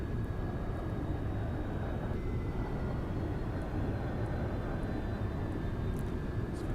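A simulated jet in X-Plane 11 at full afterburner gives a steady, dense low roar that holds unbroken and fairly loud, with no voices over it.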